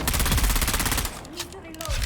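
Rapid automatic gunfire from a weapon in the video game Dune: Awakening, a loud dense burst of shots that stops partway through, then a brief lull before firing resumes.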